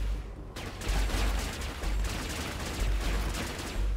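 Cannon blasts and rapid gunfire from the Warhammer 40,000 strategy game Dawn of War 3 fill the battle, a dense, loud barrage of repeated shots and booms with heavy low rumble throughout.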